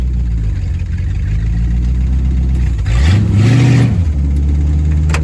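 A hot-rodded Jeep CJ5 engine idles loudly up close, then revs briefly in low gear, the pitch climbing and falling back to a rough idle, with no voices over it.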